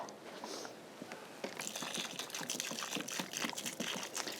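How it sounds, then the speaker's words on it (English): Water poured by hand onto a newly planted rose in a cottage garden, a steady close splashing and trickling that starts about a third of the way in and keeps going to the end, with no talk. "so I'm going to pour this on this rose. Make sure it's sinking down and not just running away."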